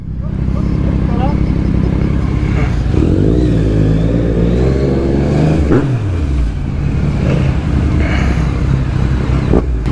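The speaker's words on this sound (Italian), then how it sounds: "Spegni la moto." A motorcycle engine revs and idles among closed-in buildings on a Naples street, running loud and close throughout with rising and falling revs, while people talk over it.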